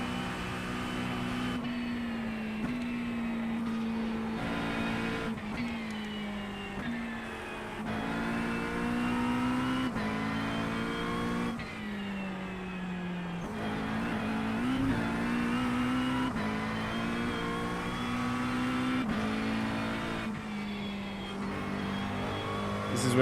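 A McLaren race car engine in a VR Nürburgring racing game drones steadily throughout, its pitch climbing and dropping with gear changes and revving, loud and continuous with no talk over it.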